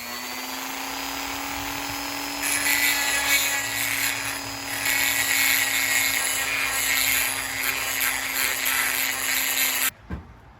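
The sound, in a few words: Dremel rotary cutting tool trimming metal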